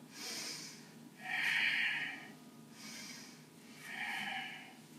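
A child breathes deeply in a yoga pose: slow, soft inhales and exhales alternate in an even rhythm, close to the microphone and without talk.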